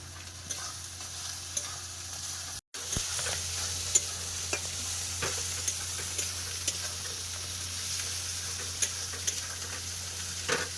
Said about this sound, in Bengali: এই যে দেখো মশলাটা কষাই হচ্ছে